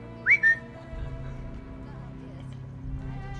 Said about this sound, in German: Aber ich kann auch pfeifen